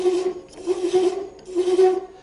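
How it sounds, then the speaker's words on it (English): A sharp hand thread chaser cutting a thread into turning wood on a lathe, a close raspy scraping repeated in three even strokes with short pauses between. "there's a simple way to chase a thread, and again a good clean thread"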